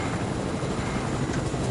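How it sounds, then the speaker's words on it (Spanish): Helicopter in a PS4 video game, a steady rotor and engine drone filling the whole stretch at an even, moderately loud level with no talk over it. "vamos. Con el helicóptero."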